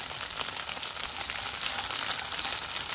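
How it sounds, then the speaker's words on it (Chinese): Carrots are stir-fried with dried tofu in a wok of hot oil, giving a steady, close crackling sizzle that runs unbroken with no talk. "把红萝卜炒软。"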